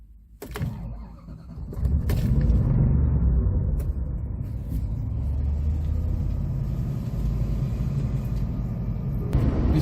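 Steady low engine and road rumble inside a 1991 Rolls-Royce Silver Spirit on the move, a continuous cabin drone that rises after an early mechanical whir and holds level with no talk.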